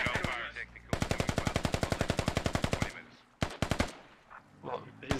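Rapid automatic gunfire in a tactical military video game, a long sustained burst of evenly spaced loud shots followed by a few scattered single shots and short bursts.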